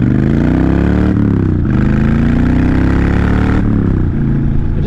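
Honda Fury cruiser motorcycle accelerating, its engine loud and close, pitch climbing through several gears with brief dips at each shift, with no talk over it.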